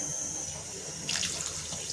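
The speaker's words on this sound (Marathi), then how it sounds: "भाज्यांसाठी असं आपण अर्धा ग्लास थोडं पाणी टाकून घेऊयात" Water poured into a cooking pot for rice, measured out by the glass, making a steady splashing pour that grows brighter and louder partway through, close by with no talking.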